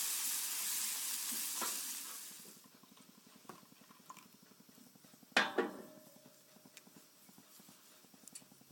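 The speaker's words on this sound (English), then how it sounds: "Add the hot milk to the hot roux a bit at a time, while constantly stirring or whisking" Milk being added to a hot roux for a two-pot bechamel, with a loud initial sizzle fading into steady rhythmic whisking taps against the pot, a sharper splash or clatter midway, and no talking.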